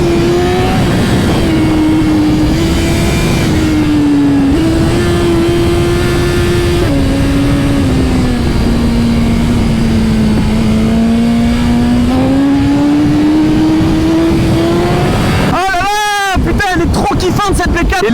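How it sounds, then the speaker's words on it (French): A big four-cylinder sport motorcycle engine, a Yamaha R1, revs hard and loud with a steady high-pitched howl that rises and falls slightly for many seconds, then breaks into sharp blips and crackles near the end. "bonheur de prendre des tours avec un gros 4 cylindres comme celui-ci"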